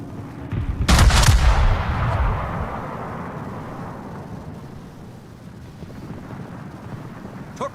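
Naval guns in World of Warships go off in one loud, deep blast, followed by a long, rolling rumble that slowly fades over several seconds.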